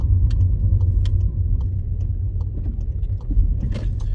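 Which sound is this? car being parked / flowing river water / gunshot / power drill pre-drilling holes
car being parked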